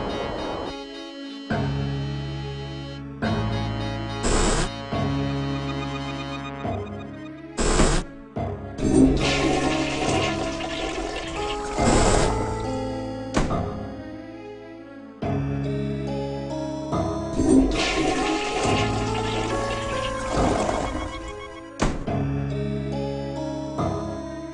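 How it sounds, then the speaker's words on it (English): In the 1995 DOS video game I Have No Mouth, and I Must Scream, a toilet in a restroom flushes three times in succession, each a loud rushing surge of water. The flushes play over game music with sharp bursts between them. "Go to the restroom and flush 3 times."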